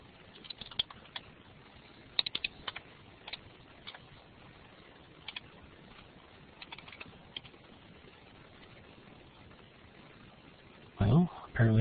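Quiet typing on a computer keyboard comes as scattered soft key clicks in irregular bursts, faint against room hiss, with a louder clatter right at the end.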